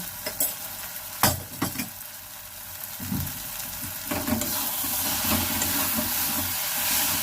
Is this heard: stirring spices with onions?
yes